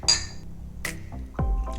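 Glasses clink together in a toast with a sparkling lime drink, one bright clink followed by a second lighter clink and a soft liquid slosh, close and alone.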